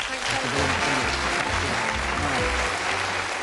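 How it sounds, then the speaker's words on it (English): A TV game show studio audience claps steadily in a dense burst of applause, with a voice speaking briefly over it. "A nice round of applause."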